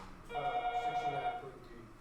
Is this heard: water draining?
no